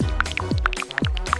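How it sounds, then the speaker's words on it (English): Water poured into a small plastic container for a homemade fidget toy, heard as a quick run of gurgling, bubbly glugs that bend in pitch, close and fairly quiet. "Now just add water."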